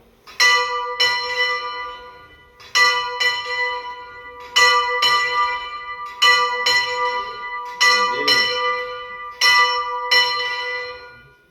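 Church bell tolled by a single ringer, loud paired strikes recurring at steady intervals of about two seconds with long ringing decay between them.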